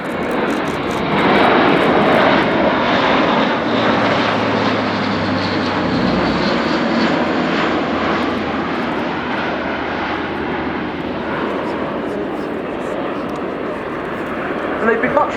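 An Airbus A400M Atlas turboprop coming in to land with undercarriage down at RIAT 2018, its loud, steady propeller drone filling the air while a commentator talks over it.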